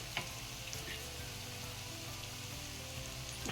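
Raw mango sautés in oil in a pan, giving a steady, faint sizzle with a couple of soft stirring taps near the start and end.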